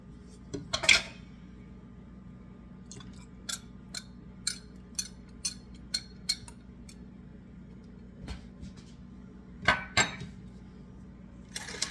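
A whisk clicks against a bowl while eggs are beaten for spelt blueberry muffins, a quiet series of sharp, evenly spaced ticks and taps with a couple of louder clattering knocks, close by and without talk.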